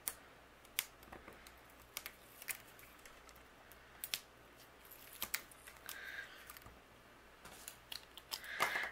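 Scissors trimming paper for a layered floral handmade greeting card, a series of quiet sharp snips scattered irregularly with short pauses between them, close and faint with no talking.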